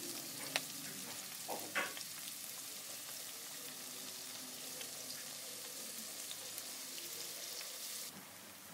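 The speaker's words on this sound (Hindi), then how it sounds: "प्याज डाल के इसकी बुनाई थोड़ी सी कर लेंगे लाइटली।" Sliced onions sizzle lightly in a pan as the first step of an aloo keema masala, a steady close hiss with a few spoon scrapes and clinks early on and no talk.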